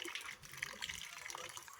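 Water running from a tap into a basin where a little girl is playing, a soft splashing trickle close by, with faint indistinct sounds underneath.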